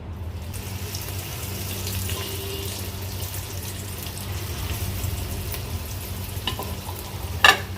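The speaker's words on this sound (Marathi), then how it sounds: "आता हे कटलेट लो टू मीडियम वर आपण दोन्ही बाजूनी व्यवस्थित फ्राय करून घेणार आहोत" Beetroot cutlets frying in oil over a low to medium flame give a soft, continuous sizzle with a low background rumble and a sharp clink near the end, close and moderately quiet.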